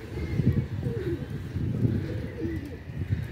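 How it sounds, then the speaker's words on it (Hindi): High-flyer pigeons at a training session give soft, repeated low coos close by, with a steady rustling background beneath the calls. "कबूतर उड़ के ऊपर चले गए हैं"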